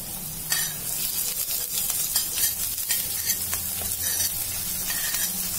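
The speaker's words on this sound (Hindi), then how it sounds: "देखिए मेरा सब्जी थोड़ा फ्राई हो चुका है" Vegetables fry with spices in a pan for rava upma, giving a steady close sizzle with occasional scrapes of stirring and no voices.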